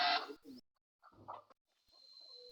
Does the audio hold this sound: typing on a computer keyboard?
no